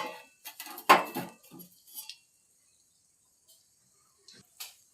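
A pan is handled while oil is added for cooking, giving a few light metallic clinks and knocks clustered in the first two seconds, then near silence with faint taps.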